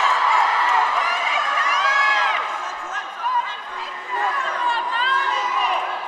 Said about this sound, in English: And now they're trading and the crowd are going wild.